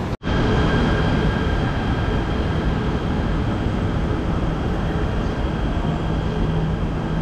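Modern commuter train in motion, heard from inside a carriage: a loud, continuous rumble and roar of wheels and rails with a steady drone that starts abruptly and holds without a break.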